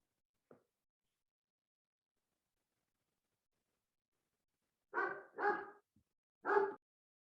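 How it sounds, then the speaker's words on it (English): A dog barks during an online ward meeting: one faint yip, then after a long silence three loud barks in quick succession, heard alone with no talk. "Sounds like your dog has something to say, though."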